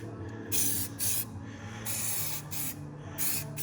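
Peelable paint sprayed in coats onto a C5 Corvette, heard as several short hissing bursts of the spray can or gun, each about half a second long with brief pauses, close and fairly quiet.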